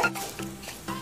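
Coriander seeds and black pepper stirred while frying in oil in a pan, giving a soft sizzle with a few scraping strokes of the spoon over about a second.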